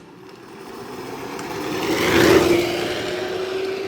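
A Power Wheels ride-on car accelerates in third gear at a drag event, a rising electric whine and motor drone swelling to a peak and then holding steady.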